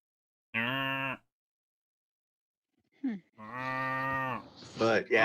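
Cows at a neighbouring farm moo loudly twice: one sustained low call, a pause, a brief grunt, then a longer drawn-out moo with a rougher tail, heard alone without talk.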